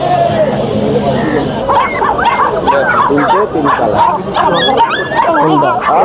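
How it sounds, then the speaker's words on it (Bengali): Dogs at a crowded pet market in Kolkata bark and yip repeatedly up close, with whimpers mixed in, over a constant babble of people talking. "চকলেট চকলেট ডগটা বের কর"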